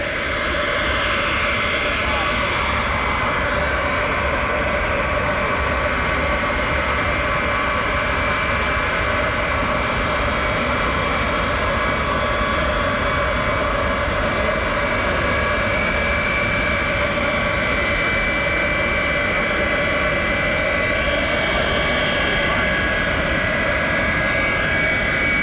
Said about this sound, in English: Air Force One taxiing.